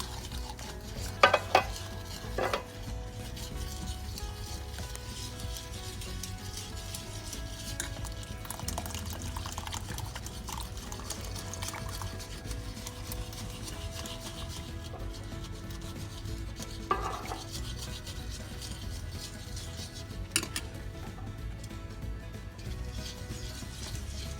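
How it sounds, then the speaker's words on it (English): Steady scraping and rubbing of a spoon stirring evaporated milk in a pot for a German chocolate cake's coconut pecan filling, a continuous low swishing with a few brief clinks against the pot. "So now I'm going to add the evaporated milk. You have to keep stirring."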